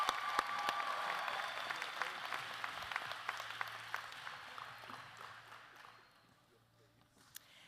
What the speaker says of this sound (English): Let's give a warm round of applause for our class of 2024